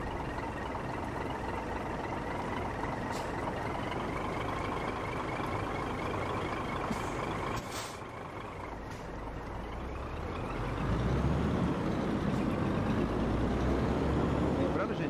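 Scania truck in a truck simulator game driving along a Brazilian route, steady engine drone and road rumble throughout, with a brief dip and then a louder, heavier engine surge near the end.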